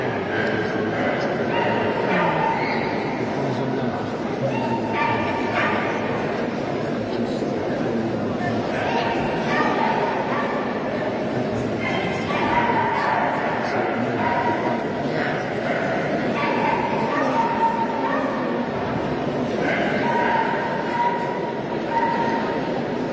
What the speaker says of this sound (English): There goes our wire fox terrier.